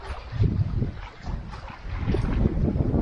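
Wind gusting at a small pond by a White Mountains campground in early fall, loud buffeting rumble across the microphone that rises and falls throughout.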